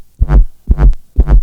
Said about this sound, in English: It gets kind of growly, wobbly right now.